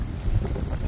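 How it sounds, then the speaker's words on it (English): Gusty wind buffets an outdoor microphone on a cold farm property, a steady low rumbling roar with fluctuating bursts and no voices. "It's windy"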